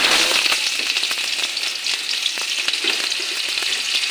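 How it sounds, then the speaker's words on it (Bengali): Onion and garlic fry in hot oil in a wok, giving a loud, continuous crackling sizzle with scattered pops and stirring clicks, close by and without talk. "রসুন দিয়ে দেবো রসুন পেঁয়াজটা ভাজা ভাজা হয়ে যায়"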